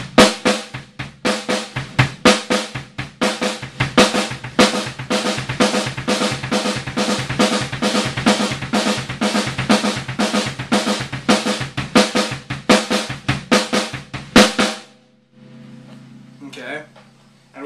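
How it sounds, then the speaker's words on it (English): Drum kit groove on kick and snare played as double strokes, two kicks followed by right and left hand snare hits. The pattern repeats in a steady, punchy, close rhythm before stopping abruptly with a brief trailing sound. "I'm going to demonstrate adding a kick drum to the snare drum in a double stroke manner using both hands."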